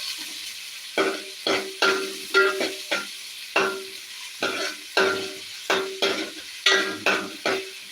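Chopped onion frying in a pan, stirred in a regular run of about a dozen distinct scraping strokes over a soft sizzle, close and fairly loud with no talking.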